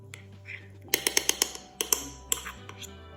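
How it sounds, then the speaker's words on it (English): A spoon stirs overnight oats with whole strawberries in a container, giving a run of sharp close clinks and taps, several in quick succession, then a few more scattered scrapes. "And then I'm going to stir it up."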